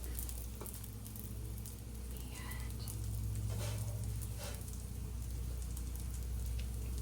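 Eggs fry in an unevenly heating pan, a soft steady sizzle and crackle close by, with occasional light clicks and taps over the continuous hiss.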